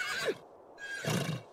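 A horse in The Sims 3 farm game gives a short whinny, two breathy neighing bursts close and fairly quiet with no talk over them.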